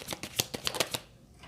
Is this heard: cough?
no